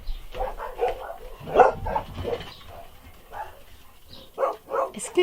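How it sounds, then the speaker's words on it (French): Several dogs barking repeatedly indoors, a run of close, loud barks and yips in an irregular rhythm, with brief pauses between bursts. "Excusez pour mes chiens qui n'arrêtent pas d'aboyer"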